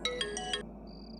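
A phone rings in an Assamese TV drama scene, a short electronic ringtone of four quick chimes over a steady room hum, cutting off abruptly and followed by a faint high tone.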